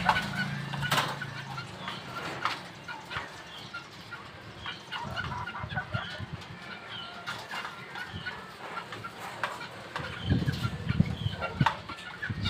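Backyard chickens clucking at a farm pen, with a newly hatched gray hen chick nearby; scattered clucks and wing flaps over a steady outdoor background, moderately close and fairly soft.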